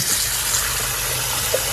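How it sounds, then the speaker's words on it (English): Water from cooked spaghetti drains in a steady, continuous gush, loud and close, with no other sounds. "Our spaghetti is ready to go and drain the water."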